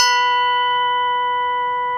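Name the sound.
struck bronze plate ringing like a bell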